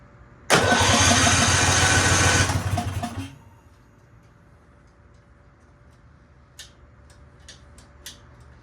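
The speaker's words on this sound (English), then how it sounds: "let's just see if it cranks up" An Argo ATV engine on the bench cranks and catches, a loud, steady mechanical roar lasting a few seconds before cutting out, followed by quiet room noise and a few faint ticks, with no talk.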